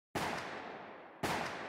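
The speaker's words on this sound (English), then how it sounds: "Gunshots rang out and Mick Howie, seated in his Mercedes, was" Two sharp gunshots as a sound effect, each hitting with a sudden loud crack and then a long echoing tail, the second following about a second after the first.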